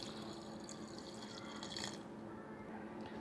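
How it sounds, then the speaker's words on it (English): Water is faintly poured into a mixer jar holding moong dal, ginger, green chili, cumin, pepper and salt for pesarattu dosa batter, a soft, steady trickle. "and adding water."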